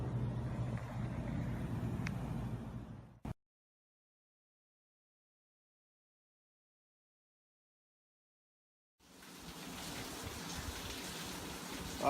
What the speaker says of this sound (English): I'm talking a little loud because it's raining.